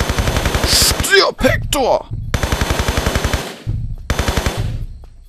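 Rapid machine-gun bursts in the video game Tomb Raider 3, loud and rhythmic, broken by short pauses and then resuming, with someone talking briefly between the volleys.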